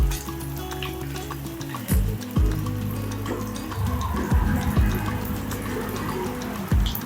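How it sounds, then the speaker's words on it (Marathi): Onion and grated coconut sautéing in hot oil in a pan, a steady close sizzle and fry broken by several louder stirring scrapes and clatters. "आपण तेलावरती जरा परतून घेणार आहोत कांदा आणि"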